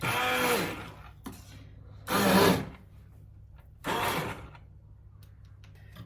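An immersion blender purées cooked vegetables for tomato soup, whirring in three short bursts, each about half a second, separated by pauses with a low background hum.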